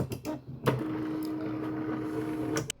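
WEEFUN TINA 2S desktop 3D printer probing before a print: a few sharp mechanical clicks and knocks, then a steady motor whine held for about two seconds, ending in another click.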